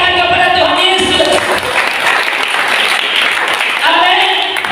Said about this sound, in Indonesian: Beri tepuk tangan kepada Tuhan Yesus